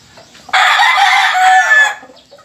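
A gamecock rooster crows once, loud and close, a single sustained call of about one and a half seconds with a rough, strained tone, set against a quiet farmyard background.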